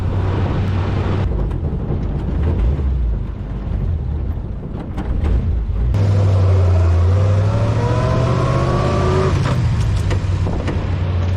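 A car driving across a road overpass in the morning gives a continuous engine and road drone heard from inside, with a louder stretch and a rising engine whine partway through. No one speaks.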